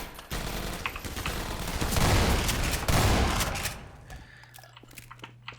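Rapid gunfire from a gun in Half-Life 2: Episode One comes as a dense, continuous volley for several seconds, then thins into a few scattered shots over a low hum.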